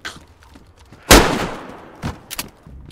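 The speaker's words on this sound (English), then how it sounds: "This is the guy shooting." Gunfire in the DayZ video game: one sharp, loud shot rings out, followed moments later by two quicker, quieter shots.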